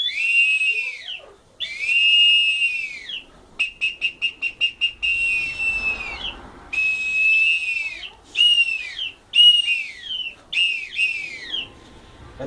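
A Maya eagle whistle imitating a bird's cry sounds loud and close in shrill, sliding calls: two long wavering notes, a quick burst of short staccato pips, then more long and clipped calls, with no voices.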